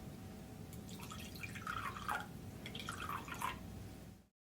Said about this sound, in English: we're going to pour water into these containers